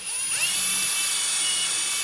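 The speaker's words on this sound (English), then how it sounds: "Obviously want to be careful drilling now that it's all the wires are in there" A power drill bores through the plastic housing of a PVS-69 gen 2 night vision device, spinning up quickly into a steady, close, high-pitched whine that runs without a break for about two seconds, with no talking.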